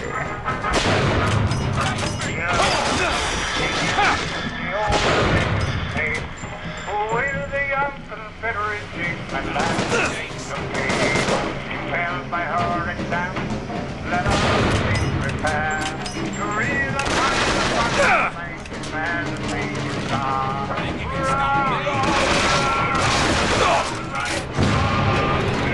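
Gunfire in the video game Bioshock Infinite, dense repeated shots and booms layered with game music and effects at a constant loud level throughout.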